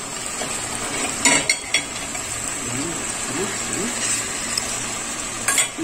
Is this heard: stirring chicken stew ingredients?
yes